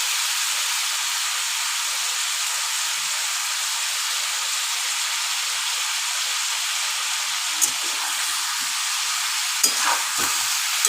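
Chicken pieces fry in a pan for a curry, giving a loud, even, continuous hiss of hot oil that barely changes, with a few faint clinks toward the end.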